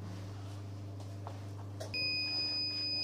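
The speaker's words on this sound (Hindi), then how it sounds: "तो ये हमारा देख रहे जैसे बीप का साउंड, ये बीप कंप्लीट हो गया" A heat press printing machine sounds its completion beep once the set timing runs out: two steady high tones start abruptly about two seconds in and hold to the end, loud over a low mechanical hum.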